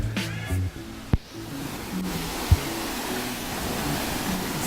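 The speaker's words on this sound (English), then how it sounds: "Some other waterfall here." Steady broadband rush of a waterfall near Mindo, Ecuador, constant and fairly close, with a couple of brief thumps and faint tonal fragments early on.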